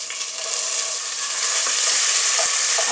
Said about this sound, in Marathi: एक दोन मिनटं चांगलं परतून घ्यायचं मस्त असं बघा मी परतून घेतलेलं आहे